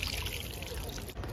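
Clean, cold water pours and splashes close by as a face is washed at a family picnic in Kolkata, a steady gushing trickle with a brief dip near the end.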